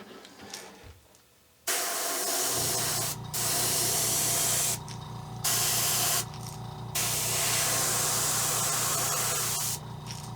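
An airbrush sprays another coat of green paint onto a fishing lure in loud, close, steady hissing bursts, broken by several short pauses.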